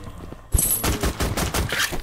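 Rapid automatic turret gunfire in a blocky Minecraft-style Call of Duty Zombies game, starting abruptly after a brief quiet and continuing as a loud, dense fusillade of shots.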